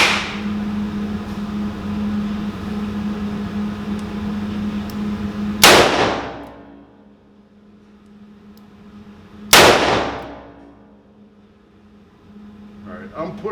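Two loud, sharp shots from a Rossi 671 .357 Magnum revolver fired at a steel target, spaced about four seconds apart, each with a ringing decay over a steady background hum.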